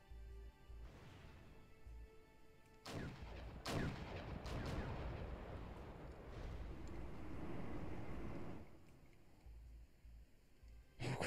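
Gunfire and artillery from the war strategy game Wargame: European Escalation, where tanks advance: sharp cracks of fire lead into a long, dense rumble of shots and blasts, then a quieter tail ending in another burst.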